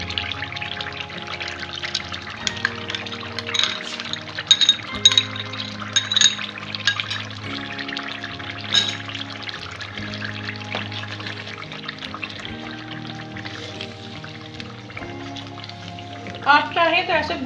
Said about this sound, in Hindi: अभी इसके अंदर मैं दही डालूंगी।